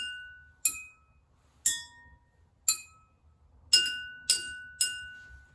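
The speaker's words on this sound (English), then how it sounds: "Could you play something like Mary Had a Little Lamb on glasses?" Water-filled drinking glasses struck as musical notes, seven clear ringing tones with sharp attacks and slowly fading decays, the first four spaced evenly and the last three quicker, close and alone without any talking.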